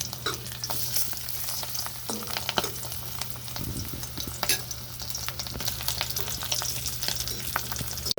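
Dried sapsap fish (tuyo) frying in hot oil at home for lunch, a steady close sizzle and crackle with occasional spatters and utensil stirs, no voices.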